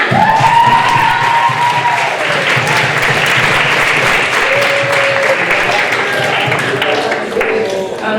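A youth conference audience claps loudly and continuously with scattered cheers and whoops, a dense, steady ovation for the person who built the event website.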